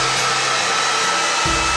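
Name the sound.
hair dryer blowing to dry paint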